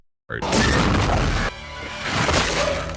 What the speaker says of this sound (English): It ignites, causes an explosion